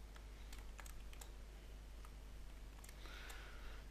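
Quiet typing on a computer keyboard, a scattered run of light key clicks ending in a single firmer keypress over a steady low electrical hum.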